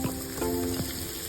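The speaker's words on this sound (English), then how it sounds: "In the same pan, sauté onions" Onions sautéing in a pan still hot from browning meat for Salisbury steak, giving a steady soft sizzle with a few brief scraping strokes and a faint underlying hum.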